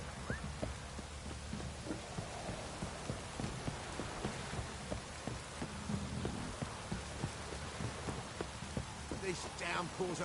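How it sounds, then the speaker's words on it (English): Heavy rain in a steady downpour, a dense continuous patter with scattered heavier drops, faint and even throughout. "This downpour's a bastard"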